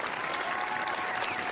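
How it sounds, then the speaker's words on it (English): A concert audience at an outdoor municipal band show applauds a vocal soloist in continuous, moderately distant clapping, with a faint whistle or cheer near the end. "Give her a big round of applause."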